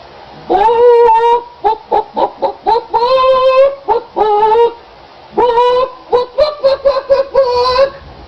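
A human voice imitates a chicken, with a string of rhythmic, nasal clucks in two bursts separated by a short pause, loud and close.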